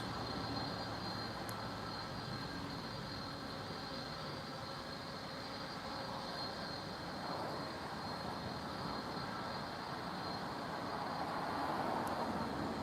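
Heavy airliner taking off at Lisbon airport, a distant, continuous broadband engine roar holding steady and swelling slightly toward the end, with no talk.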